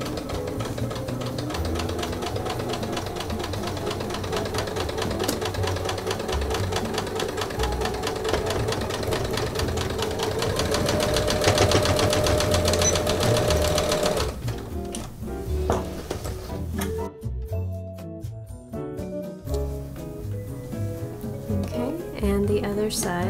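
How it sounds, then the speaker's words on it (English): Sewing machine backstitching hemp canvas for a pencil case, a steady rapid stitching whir for about fourteen seconds, then shorter stop-start bursts with pauses as the seam is finished. "Be sure to lower the presser foot and backstitch at the beginning and the end"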